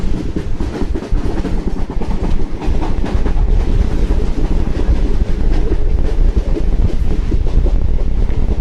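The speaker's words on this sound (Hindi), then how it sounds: "अपनी ट्रेन एक और स्टेशन को स्किप करते हुए बहुत अच्छी स्पीड में" A Ranikhet special train running at high speed through the countryside between Jaipur and Jaisalmer, with loud, continuous rumbling and rattling of the cars, rhythmic clickety-clack over the rails and wind buffeting the microphone.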